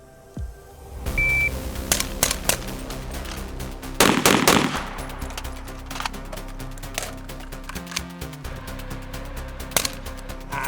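Rifle and pistol fired with a weapon-mounted white light through a day optic during a night shooting drill: loud sharp shots, a tight burst near the start then scattered single reports, close and echoing, with no talk.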